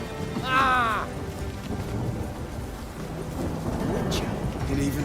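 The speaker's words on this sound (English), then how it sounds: "It's raining again." Steady rain hisses throughout with low rumbling thunder underneath in The Witcher 3: Wild Hunt; a brief voice-like cry rises near the start.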